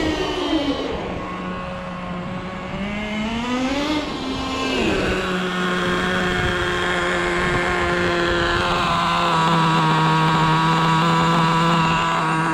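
A Traxxas T-Maxx 2.5 nitro RC truck engine runs loud and close with a high, buzzing whine. The pitch dips briefly, then settles into a steady, even drone.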